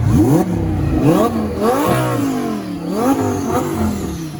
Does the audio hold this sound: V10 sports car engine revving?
yes